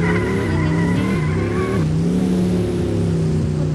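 A Cybertruck's engine hums loudly and steadily up close with tonal whine, shifting pitch partway through as the car pulls away.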